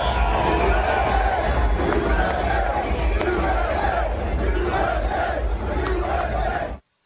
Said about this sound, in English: he was greeted with cheers from the crowd